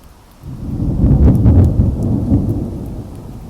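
Thunderstorm rumble with rain: a deep roll of thunder builds, peaks and slowly fades over steady rainfall, loud and close with no voices.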